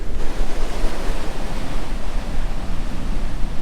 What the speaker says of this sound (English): if you look at the surf here today, it is really kicking in high gear today